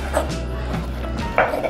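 A few soft knife cuts and scrapes on a cutting board, close by, slicing fresh pork innards for dinuguan, with faint kitchen clatter between strokes.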